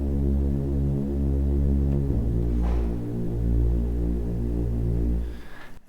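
Reese bass synth in a house music track: a loud, sustained, droning low bass with a slow throbbing phasing, changing pitch partway through and playing alone without voices.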